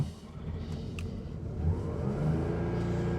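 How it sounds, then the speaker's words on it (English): A 1973 Porsche 911S with mechanical fuel injection idles and then revs up as the throttle is lifted, with a steady, close engine drone that rises in strength partway through. "We're going to lift the throttle for the mechanical injection."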